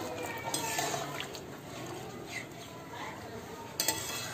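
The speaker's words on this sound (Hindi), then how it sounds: "इसमें एक कप पानी और डालेंगे" A cup of water is poured into a cooking pan of sev tamatar sabji with bhujia, a quiet, steady splashing stream with a few faint clinks of utensils.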